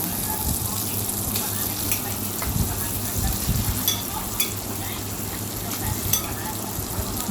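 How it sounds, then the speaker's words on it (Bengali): Mashed yardlong beans with shrimp frying in a pan, a loud close sizzle with repeated stirring scrapes and knocks of a spatula against the pan, no voices. "এগুলো আমি ভালো করে ভাজা ভাজা করে নেব"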